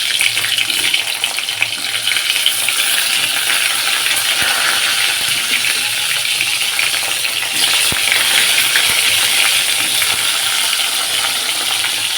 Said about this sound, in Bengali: কেটে রেখেছি পটল কুমড়ো ভাজা করব এবার এগুলো ভাজবো